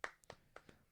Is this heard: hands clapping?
yes